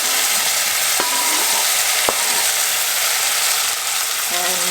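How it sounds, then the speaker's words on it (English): Tomatoes going into onions frying in a pan for tadka dal, a steady broadband sizzle throughout with a couple of sharp utensil clicks and stirring scrapes close by. "Now the next step with these onions is to add the tomatoes"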